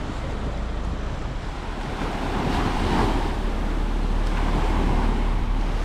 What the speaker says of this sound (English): This exceptionally pretty beach is hidden in a natural cove and flanked by dark rocks